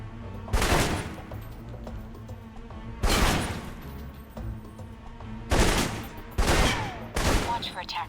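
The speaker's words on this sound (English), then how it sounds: "For long-range encounters, the assault rifle's the key." Assault rifle fire in the Alpha Protocol video game: four loud, separate bursts of shots about two to three seconds apart, each ringing out sharply over low steady background sound.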